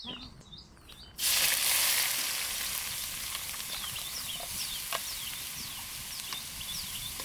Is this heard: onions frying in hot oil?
yes